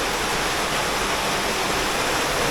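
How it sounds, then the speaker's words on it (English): Small waterfall cascading in a cave stream, a steady close broadband rush of falling water that runs unbroken and alone at an even level throughout. "Another little cascade."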